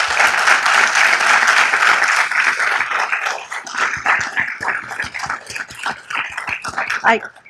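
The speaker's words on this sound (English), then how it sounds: "Let's give them another round of applause." Audience applause at a city council meeting, honouring police officers and firefighters: sustained dense clapping from a large indoor crowd that thins into scattered claps, with a dog barking and whimpering intermittently through it.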